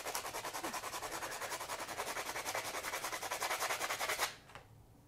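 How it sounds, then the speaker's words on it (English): Sandpaper rubbed by hand over the raised edge of a resin piece on furniture, fast rhythmic back-and-forth scratching strokes, close and fairly quiet, stopping abruptly near the end. "So I'm just going to take a bit of sandpaper."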